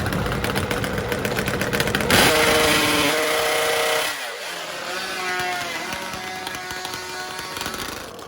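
A Kawasaki H2 750 two-stroke motorcycle engine on a race track during pre-race testing, loud and buzzing with a rising rev for the first few seconds and then easing to a steadier, quieter note.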